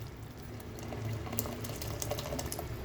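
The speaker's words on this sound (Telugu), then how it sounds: "పప్పు ఉడికిపోయింది, నీళ్ళు తీసేస్తున్నాను పప్పులో నుంచి." Water drains out of cooked dal from a pressure cooker, a faint, steady liquid trickle and bubbling with small clicks of the vessel, quiet and without talk.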